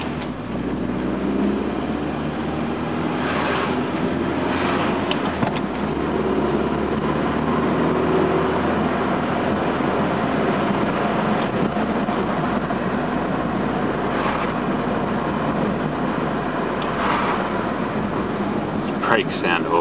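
Car engine hum and road noise while driving, steady throughout at moderate level, with the car just back together after work and its brakes in poor condition.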